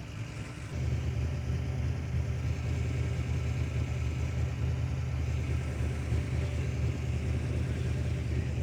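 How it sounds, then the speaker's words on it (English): A modified 700-horsepower engine in a custom van at a Chrysler car show rumbles steadily after starting up, a deep, continuous idle with low throb that stays even and fairly close throughout. "Oh, I hear it vrooming now."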